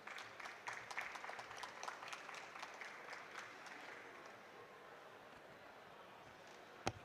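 Audience applause at a climate and air pollution talk in the Africa Pavilion at COP27, a broad patter of clapping hands that is strongest early, then thins and fades, with no voices over it.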